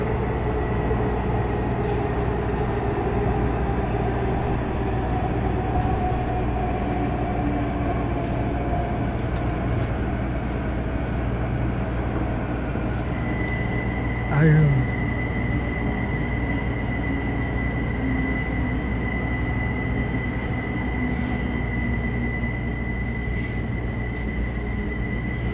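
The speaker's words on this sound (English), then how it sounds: "So the red line train, Shady Grove." A Red Line subway train rumbles steadily throughout with a constant low drone and faint metallic whines, plus a brief clunk midway.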